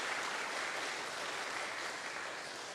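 Church congregation applauding together in a worship service, a steady dense wash of clapping held at even loudness throughout, with no talk over it.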